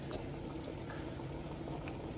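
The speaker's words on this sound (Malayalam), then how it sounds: "പാല് ഏകദേശം കുറുകി വരുന്നുണ്ട് കേട്ടോ." Spiced milk bubbling steadily in a pot as it boils down and thickens, a soft continuous simmering burble heard close up with no voices.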